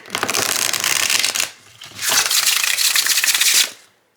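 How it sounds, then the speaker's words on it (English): Two quick riffle shuffles of a tarot deck, each a dense fluttering rush of snapping cards lasting over a second, close and crisp. "it riffle shuffles amazing"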